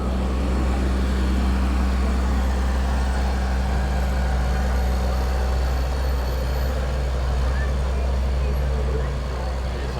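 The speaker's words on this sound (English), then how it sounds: "Some big old trucks." Big fire trucks roll past in a July firemen's parade, their heavy diesel engines giving a loud, steady low rumble with a mechanical hum throughout, and people talking nearby.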